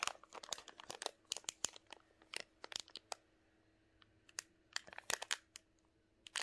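Diamond light ribbon for a Christmas tree skirt being cut nearly in half, giving quiet, irregular crinkling snips and crunches in quick bursts with short pauses, close up and with no talking.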